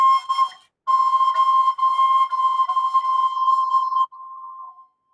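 Handmade flute played with one hole left open, sustaining a clear, pure whistling tone in a few phrases separated by short breaks, alone and close.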